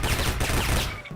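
Rapid automatic gunfire in a shooting video game, a dense loud burst of fast shots filling most of the clip before cutting off.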